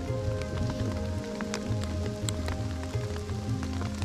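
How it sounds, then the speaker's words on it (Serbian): Rain patters on a tent high on Maglić mountain, a close, steady drumming hiss with scattered sharper drop hits and a low rhythmic flapping underneath, no voices. "Bilo je ekstra super i na kraju kiša krenu."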